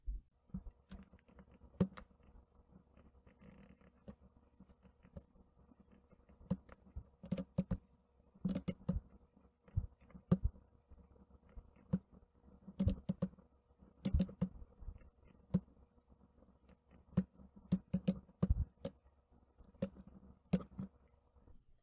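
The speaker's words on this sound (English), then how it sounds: "Or you could type the picks in manually." Irregular clicks and taps of keys on a computer keyboard, coming in short bursts with pauses between, fairly close and quiet.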